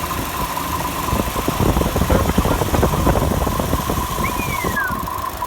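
A Chevy Cruze engine idles steadily with a loud mechanical clatter and vibration, plus a faint high whine, running without pause and with no talk.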